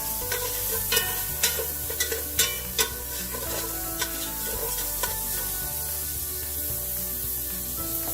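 Finely diced white onion sautéing in a pot, a steady close sizzle with intermittent scraping strokes of a spoon, while background music plays throughout and no one talks.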